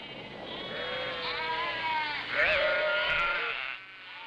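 Sheep bleat steadily on Easter Island, several wavering calls overlapping into a close, continuous chorus with one louder cry near the middle.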